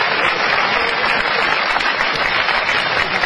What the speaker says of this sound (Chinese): 再次以热烈掌声欢送老于